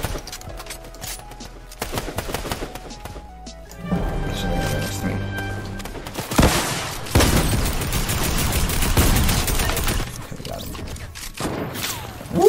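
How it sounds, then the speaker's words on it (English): Gunfire in Fortnite on a Halo map during a Capture the Flag match: bursts of game shots and impacts start sparse, then become a dense, loud stretch of rapid fire mixed with other game effects, with talk over parts of it. "we almost just got sniped"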